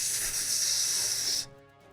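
A voice imitates the sizzle of a poured-out vial hitting the ground, a steady loud hissing spray lasting over a second before cutting off abruptly into near silence.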